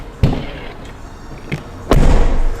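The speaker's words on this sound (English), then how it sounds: "Whenever you close the door, it has this metallic touch at the end." Door of a 2024 Aston Martin Vantage shutting with a metallic touch at the end: a sharp thud near the start, a smaller knock, then a heavier final slam, all close and without talk.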